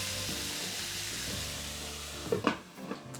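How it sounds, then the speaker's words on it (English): White and sweet potatoes frying in a pan for a frittata, a low steady sizzle with a brief scraping stir near the end, close and quiet, no talk. "So we'll give them a little stir and carry on cooking."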